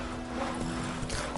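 Horse hooves clip-clop steadily in The Witcher 3 on PS4, a close, continuous trotting rhythm over a low game ambience with no talk.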